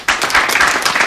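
Brief burst of audience clapping at a Hungarian comedy-music stage show, a dense patter of many hands that starts abruptly and holds steady.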